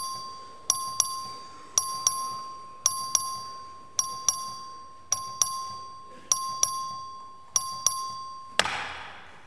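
The voting bell in the Texas House chamber rings in a regular series of about eight bright electronic double chimes, evenly spaced over a steady tone, ending in a short burst of noise.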